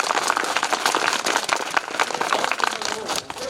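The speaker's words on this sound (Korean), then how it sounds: "첫 번째 순서로 고생해주신 경상대학 후보자님들께 큰 박수 한번 부탁드리겠습니다." Applause for student council election candidates at a joint campaign rally, steady crowd clapping that carries on without pause and thins slightly near the end.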